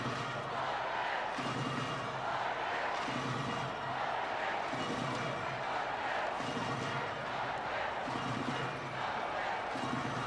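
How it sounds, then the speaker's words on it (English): Norwegian fans cheer throughout a women's handball semi-final against Hungary at the EHF EURO 2012. The arena crowd roars steadily with rhythmic chanting swells, dense and continuous, under a commentator's voice. "the Norwegian fans are cheering away"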